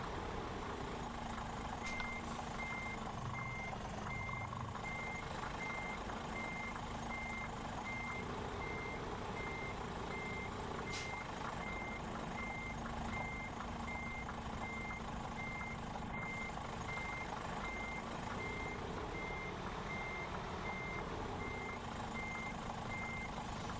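Repeated electronic reversing beeps from a Thunder truck maneuvering at a site, a steady pulsing tone over the low rumble of the idling engine, moderately distant and continuous throughout with no talking.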